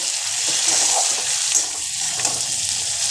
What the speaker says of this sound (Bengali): টমেটোটা একটু তেলের মধ্যে নেড়ে চেড়ে ওই মশলাটা দেব